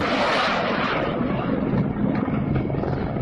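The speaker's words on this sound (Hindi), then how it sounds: "ये देखिए रॉकेट दाग रहे हैं रूसी हेलीकॉप्टर, लड़ाकू हेलीकॉप्टर है जो रॉकेट दाग रहे हैं आसमान में।" Russian attack helicopters firing rockets in the sky: a loud, continuous rushing roar over a low engine rumble, steady throughout with no voices.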